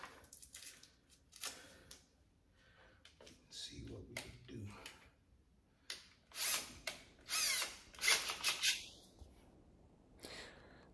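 Power drill boring countersink holes into a table build, heard in several short whirring bursts between stretches of talk, fairly close.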